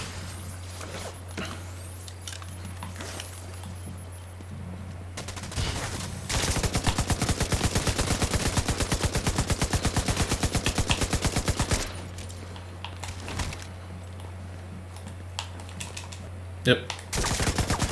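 In the video game The Division 2, gunfire sounds as a long, loud burst of rapid automatic shots in the middle, with sporadic single reports before and after and a short spoken word over a low steady hum.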